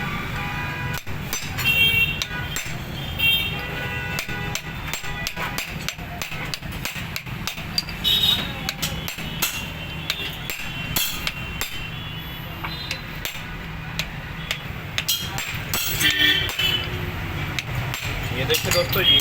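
Sharp metallic clinks and taps of a tool tightening a bolt on a Hero Honda CD 100 motorcycle clutch during a clutch plate change, irregular and close, with someone talking in the background.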